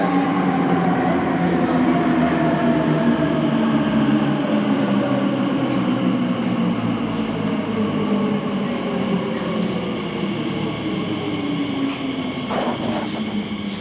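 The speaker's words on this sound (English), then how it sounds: "here is a Elizabeth line train to Abbey Wood" An Elizabeth line train bound for Abbey Wood hums and whirs loudly up close at an underground London platform, its motor tones slowly falling as it moves along, with a steady rumble throughout.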